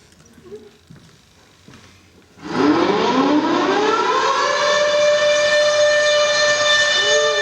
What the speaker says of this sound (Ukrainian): Ти зеркало побачила Розслабся, ми на святі, це навчальна тривога.